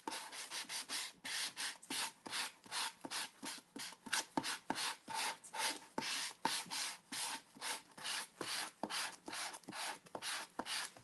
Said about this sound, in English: I'm just going to kind of brush my sanding block around this edge.